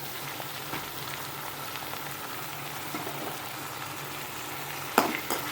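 Green beans fry with onions and curry leaves in a pan, giving a quiet, even sizzle with a brief stirring clatter near the end.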